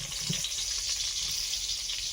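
Eggplant slices rubbed with salt and turmeric go into hot oil in a heated kadai, giving a steady, dense sizzle that runs unbroken and fairly close throughout.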